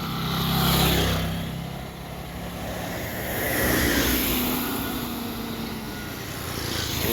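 A large vehicle rumbles over a bumpy construction road in the Philippines, a broad steady roar that swells and eases in waves of rattling, bouncing noise, fairly close, with no talking.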